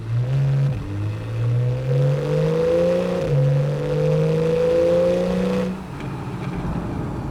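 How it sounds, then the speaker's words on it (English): A Porsche 911 Carrera GTS (991.1) naturally aspirated engine revs in sport mode and holds a deep, droning exhaust note that climbs and steps up in pitch, loud and close, then drops away near the end. "something that is very thrilling about it is the sound that is produced out of this amazing car"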